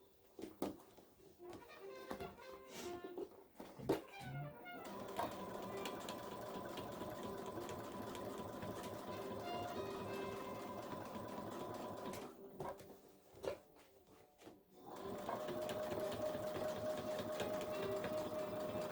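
Quilting sewing machine stitching steadily with a Weightless Quilter suspending the quilt, a fast rhythmic mechanical chatter running for long stretches, briefly pausing and restarting, with faint background noise and occasional handling sounds.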